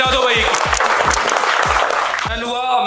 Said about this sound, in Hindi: एक बार बाकी सात जनों के लिए बस जोरदार ताली बजा दो भाई